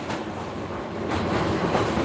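The Bijoy Express, a passenger train bound for Jamalpur, rumbles steadily along, its dense, continuous roar of carriages and wheels close and even, swelling slightly louder toward the end.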